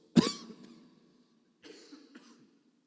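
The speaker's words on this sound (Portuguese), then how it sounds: "Essa tosse está me acompanhando já há algum tempo, aquela antiga tosse seca" A single sharp, dry cough from a lingering dry cough, up close, followed a second later by a softer throat-clearing rasp, with quiet room tone between.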